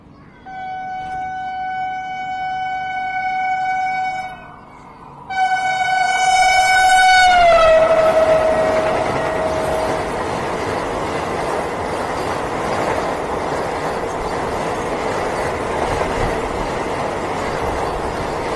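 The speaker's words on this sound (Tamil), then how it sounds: "எக்ஸ்பெக்ட் பண்ண மாதிரியே வந்தே பாரத் ஓவர்டேக் தாங்க." A Vande Bharat express on Indian Railways overtakes with a loud, long two-part horn blast. It then roars past close by as a sustained rumble and clatter of wheels on track.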